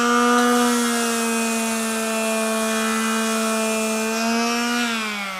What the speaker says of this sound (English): It's actually a third sheet finishing sander.